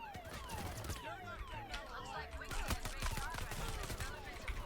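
Rapid gunfire from a Payday 3 heist shootout, dense overlapping bursts of shots crackling continuously, loud and close throughout.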